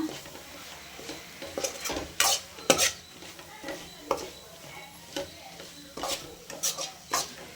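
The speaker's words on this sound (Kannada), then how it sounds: "ಇದು ಸ್ವಲ್ಪ ಹಸಿ ವಾಸನೆ ಹೋಗೋ ಗಂಟ ಸ್ವಲ್ಪ ಫ್ರೈ ಮಾಡ್ಕೊಳ್ಳೋಣ" A spoon scrapes and clatters against a pan as mutton gravy masala fries, sharp metallic stirring strokes recurring every second or so over a soft sizzle.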